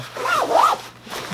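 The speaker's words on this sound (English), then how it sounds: "Zip goes all the way to the bottom" A zipper is drawn along a Prometheus Design Werx S.H.A.D.O backpack compartment, one quick close rasping pull with a rising and falling tone, alone and near.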